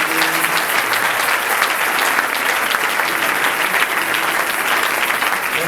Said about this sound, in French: Si tu dors pas, est-ce que tu peux acclamer pour le Seigneur?